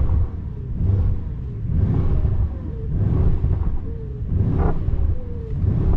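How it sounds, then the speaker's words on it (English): Mercedes-AMG S63 engine running while parked, giving a deep low rumble that swells in repeated rev-like surges roughly every second, close and fairly loud with no talking. "it's time to demonstrate you the sound of the S63 performance"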